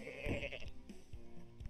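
Goat bleats in the video game I Am Bread, a couple of short, wavering cries close up with no talk over them.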